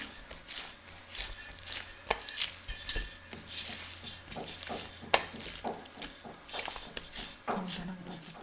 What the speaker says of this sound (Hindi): मैदे को हम आटे की तरह अच्छे से गूंद लेंगे।